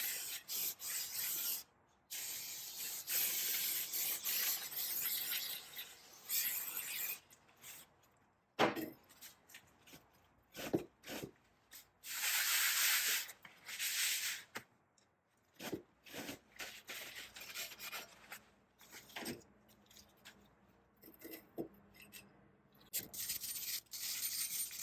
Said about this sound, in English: I'm going to use a wire brush to get some of the rust off.